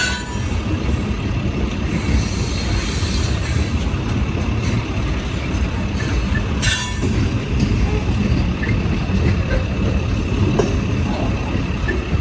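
Long coal train with locomotives in the middle and at the rear rolls past nearby, a steady loud rumble of railcars with wheel squeal and clatter throughout, and voices faintly underneath.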